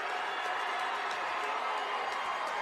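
Basketball crowd from New London on its feet at a post-season sectional semifinal game, a steady, dense roar of cheering and shouting that fills the gym continuously without a break.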